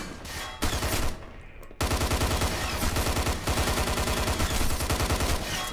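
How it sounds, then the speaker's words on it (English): Pulse rifle in Hunt Down The Freeman firing long rapid automatic bursts, loud and close, with a brief pause before sustained fire resumes. "that sure sounds like the pulse rifle"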